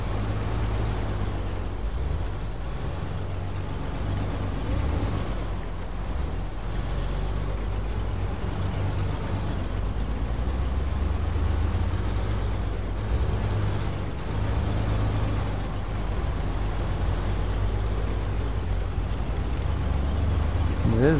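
SnowRunner truck engine labouring through deep mud, a steady low rumble with sloshing texture running continuously and evenly loud throughout.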